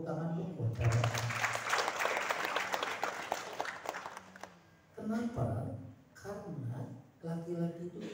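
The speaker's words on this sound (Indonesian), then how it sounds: "Tepuk tangan dulu buat kalian." Parents at a school parenting talk on bullying give the attending fathers a brief round of clapping, a burst of about four seconds, followed by someone speaking.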